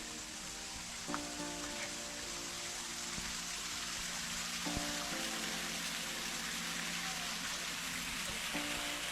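Waterfall beside a rocky terrace at Wat Pha Lat temple, giving a steady, fairly faint wash of rushing water that continues without a break and without talk.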